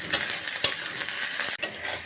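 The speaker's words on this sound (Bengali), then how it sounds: "এবার একটু ভেজে নেব।" Onion, whole garlic cloves and chopped ginger fry in a pan with a steady close sizzle, broken by a few sharp scrapes and knocks of a stirring spoon.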